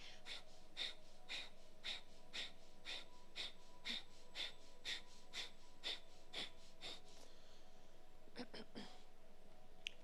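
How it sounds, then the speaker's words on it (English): Rapid, rhythmic yoga breath of fire, forceful nasal exhalations pumped from the navel, repeating roughly twice per second in an even pulse, close and fairly soft, with a brief pause and a few quicker breaths near the end. "So you're pumping the navel, pumping the breath of fire."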